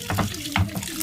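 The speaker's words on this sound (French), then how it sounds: "elle est en train de s'échauder sous l'eau chaude." Hot tap water runs steadily into a small container over pieces of cut meat being scalded, a close splashing flow with a few louder gushes.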